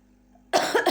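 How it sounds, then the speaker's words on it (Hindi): A single short, forceful cough bursts out after half a second of near silence, close and fairly loud. "खांसी हो रही है।"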